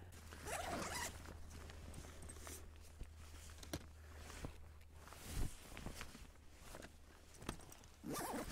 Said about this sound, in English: If you come down a place like this, zip your bag up